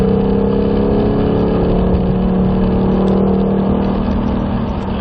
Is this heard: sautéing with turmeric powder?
no